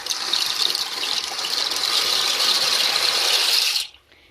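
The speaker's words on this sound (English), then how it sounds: "our water is ready here, so we're just going to toss in our shells" Dry pasta shells pour into a pot of water for a casserole, giving a steady, loud rattling rush for nearly four seconds before cutting off abruptly.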